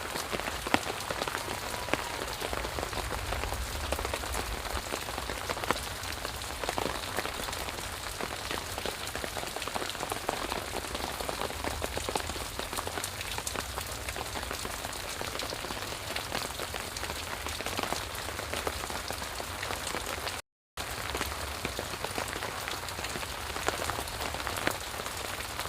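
Steady rain patters on surfaces outdoors in Baltimore, a dense, even hiss of drops at moderate loudness with no talk, continuing nearly unbroken apart from one brief dropout.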